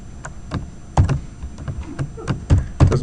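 Computer keyboard typing during a programming lecture, about a dozen irregular clacky keystrokes with a few harder thumps, close and fairly loud with no talking.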